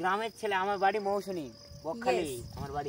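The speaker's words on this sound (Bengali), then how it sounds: "চারদিক থেকে ঝিঝি পোকা ডাকছে" Crickets chirp steadily all around at midnight in a village near Bakkhali, a constant high drone running under men's close, animated talk as they prepare a fire for roasting corn.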